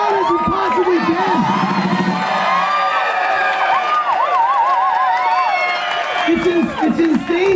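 A loud festival crowd at Fields Festival cheering, whooping and shouting, with applause mixed in, while a voice speaks over the roar at the start and end.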